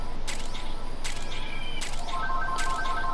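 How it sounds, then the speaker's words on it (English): A phone rings during Metal Gear Survive play: four evenly spaced bursts of ringing, each under a second, come at a steady rhythm, with a faint higher electronic tone sustained near the end. "Sorry about the phone ringing"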